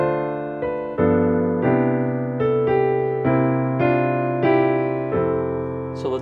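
Solo jazz piano plays a slow ballad phrase of Silent Night, with rich sustained chords struck one after another at an unhurried, even pace, close and clear with no talking.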